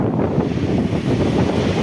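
Strong wind buffets the microphone on a bridge over the Mahisagar (Mahi) River in monsoon season, with released floodwater surging below; a steady, loud, continuous rumbling roar with no talk over it.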